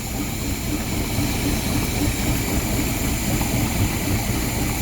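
A carbureted engine fitted with a Rochester Quadrajet carburetor idles steadily while being tuned for maximum vacuum, giving a continuous, even rumble with no talk over it.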